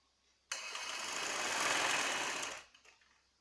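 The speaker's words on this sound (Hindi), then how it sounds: "इसी तरह से पूरी राउंड में हम सिलाई लगाएंगे" A sewing machine stitches the yoke of a baby frock in one continuous two-second run, a close, even whir that starts abruptly and fades out, with no talk.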